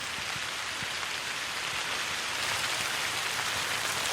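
Rain falls steadily on abandoned building ruins, a dense, even hiss of drops with no voices, unchanging throughout.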